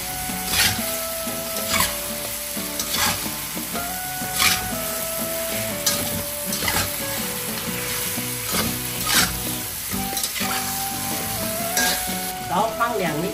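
Spicy pork ribs stir-fry in a wok with steady sizzling and repeated scraping strokes of a spatula at a regular rhythm, close and continuous without talk.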